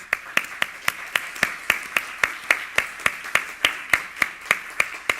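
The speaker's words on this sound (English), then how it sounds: "Can we give them a round of applause?" Sharp claps at a UCLA Alumni Day 2019 centennial gathering, struck in an even, steady rhythm about four per second, close and clear, like a small group clapping in time rather than a full ovation.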